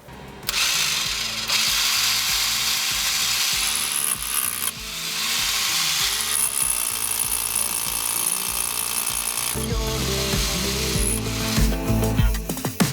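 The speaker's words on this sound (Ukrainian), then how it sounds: "давайте тепер спробуємо, як працює перфоратор" A loud rotary hammer drill powered by a portable power station runs close by in sustained bursts, a harsh rattling hammering with brief pauses between runs, no talking.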